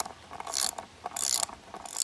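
Ratchet wrench tightening a bolt while mounting a bear-proof deer feeder outdoors, giving a few quick bursts of close, crisp clicking separated by short pauses.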